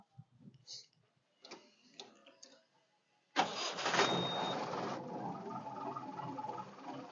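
A jeep engine cranks over on its self-starter and catches, then settles into a steady idle; soft clicks and small taps come before it, and the running engine stays fairly close and clear.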